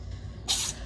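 A cat's single sharp sneeze, a brief close hissing burst standing out over quiet room tone.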